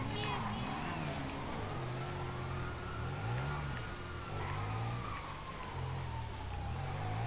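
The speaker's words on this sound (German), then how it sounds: "dein Motorrad ist einfach nur pervers schnell" A motorcycle engine revs and whines in the video game GTA Online, rising and falling in pitch beneath steady game noise while people talk over it throughout.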